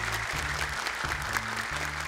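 A studio audience of Islamic boarding school students in Cilegon, Banten, applauds at a TV Quran memorization competition. The clapping is loud and continuous, with a rhythmic musical beat pulsing underneath.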